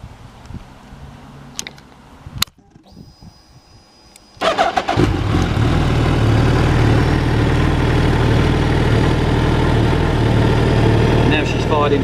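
A motorcycle engine cranks with a few clicks and knocks, then fires into life around the midpoint and settles into a loud, steady idle close by; a voice speaks briefly before the start.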